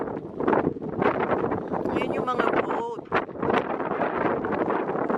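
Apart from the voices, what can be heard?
cold wind at the beach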